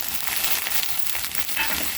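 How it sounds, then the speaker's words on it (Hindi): Onions fry in hot oil for an aloo samosa filling, giving a steady, close sizzle with faint stirring and no voices. "हमें कच्चापन जाने तक फ्राई कर लेना चाहिए"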